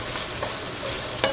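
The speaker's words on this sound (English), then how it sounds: "you can hear the cooking sound, the sizzling sound of the onion" Onion sizzles and crackles in hot oil, a steady close frying hiss with faint stirring sounds and no talking.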